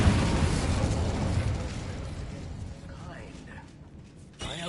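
A fire spell cast in Hogwarts Legacy erupts as a loud burst of roaring flame at the start, then fades into a long crackling decay, with a sharp new hit near the end.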